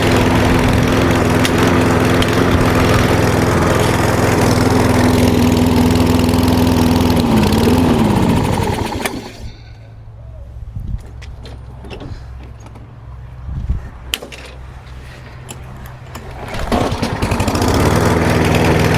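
A lawn mower engine with a fuel problem runs loud and close, cuts off into quieter background, then restarts with a single pull and returns to a steady, full roar.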